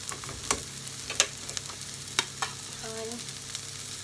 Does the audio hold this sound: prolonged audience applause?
no